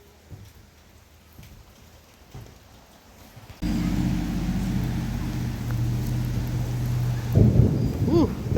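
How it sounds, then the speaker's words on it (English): Thunder rolls in loud and close after a few quiet seconds, a sustained low rumble that holds steady and then swells again near the end, heard near a historic mill. "There's the thunder."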